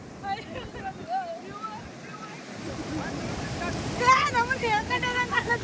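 Ocean waves washing onto the beach at Gokarna, a steady surf roar building in the second half, with wind buffeting the microphone and people talking and calling out nearby.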